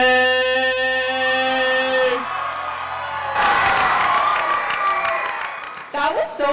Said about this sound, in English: Yes, another round of applause for Jace.